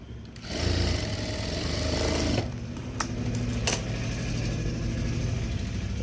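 Sewing machine motor running steadily while stitching a sleeve, a continuous close mechanical whir with a brief pause and restart partway through, no talking.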